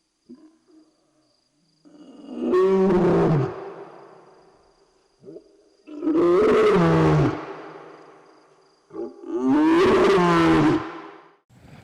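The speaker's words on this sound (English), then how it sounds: "that's when they hear a lion roar" A lion roars in the wild in three long, loud bouts, each rising and fading with deep harmonic groaning, separated by short pauses.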